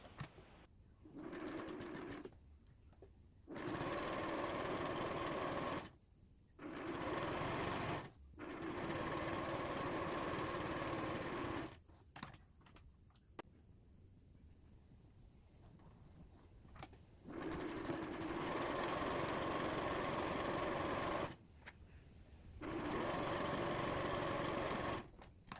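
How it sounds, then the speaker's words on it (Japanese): Sewing machine running in several bursts as it stitches a seam with a 1 cm allowance on a fabric pouch, steady rapid mechanical whirring broken by short pauses, close and loud. "両端を1センチの縫い代で縫い合わせます。"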